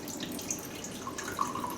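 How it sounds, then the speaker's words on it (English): Rice vinegar, half a cup, pours steadily into an Instant Pot for a savory sausage slaw, a soft continuous trickle and splash close by with a few brighter drips, no talking. "So we've got rice vinegar, and I'm going to add a 1/2 cup."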